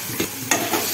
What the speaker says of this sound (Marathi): बेसन पीठ चांगलं भाजल्यानंतर मग ही भाजी टाकायची मेथीची